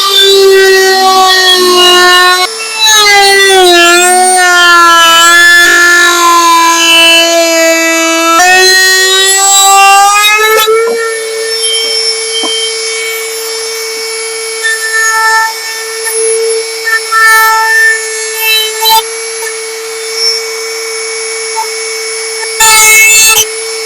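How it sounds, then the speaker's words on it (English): Dremel rotary tool fitted with a flex head attachment cuts UTV plastic: a loud, high whine rising and falling in pitch as the load changes, then a steadier running tone for a long stretch, with no talking. "So I got the flex head attachment for my Dremel. Works really well for doing these little stupid jobs"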